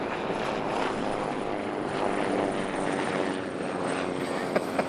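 An airplane passing overhead outdoors, a steady broad engine drone that holds fairly loud and constant throughout without anyone speaking.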